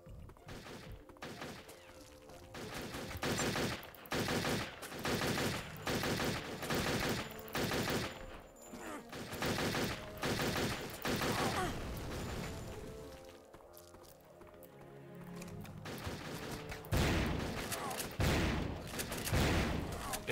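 Heavy gunfire from a shotgun in the video game Turok 3, loud blasts repeating in a steady, rapid rhythm almost throughout, with a short lull near the middle before the firing resumes.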